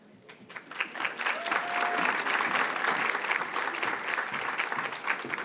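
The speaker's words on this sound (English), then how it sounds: "let's give the panel another round of applause" Applause from a conference audience at a Latina leaders summit honouring a panel: a full crowd clapping that swells within the first second and holds steady and even for several seconds.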